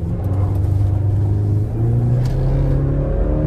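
A GMC Canyon Denali pickup with the Turbo Max engine accelerates from inside the cab, a steady loud low rumble with rising engine tones and no talking.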